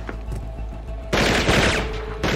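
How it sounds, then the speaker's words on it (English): Gunfire erupts aboard a ship during an ambush in a TV crime drama scene: a quieter stretch of shots, then loud sustained automatic bursts at close range, stopping briefly before another burst. "You remind me why we're being shot at by the Navy?"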